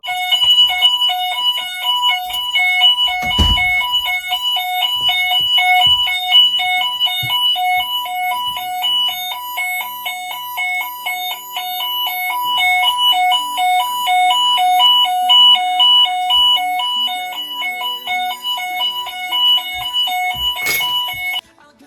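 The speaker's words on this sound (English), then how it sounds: "the fire alarm went off" A home fire alarm sounds in a continuous repeating pattern of loud, shrill electronic beeps, very close and steady for the whole stretch, with a couple of brief knocks in the background.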